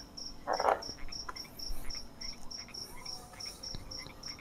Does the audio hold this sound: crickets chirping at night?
yes